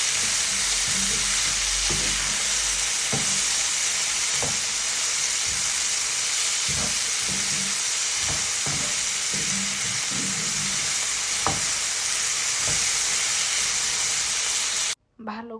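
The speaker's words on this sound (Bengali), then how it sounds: "ভালো করে এটা ভাজার পরে যখন আলুটা একটু নরম হয়ে আসবে" Chopped potato and tomato frying in a pan as a filling for Bengali singara, a constant loud sizzle and hiss with occasional stirring scrapes, no voices over it.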